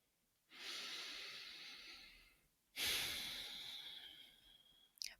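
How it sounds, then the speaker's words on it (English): Two long, slow breaths close to the ear, each a steady airy rush that swells and tapers over about two seconds, taken during a calm guided reflection, with a small click at the end. "I want you to take a deep breath."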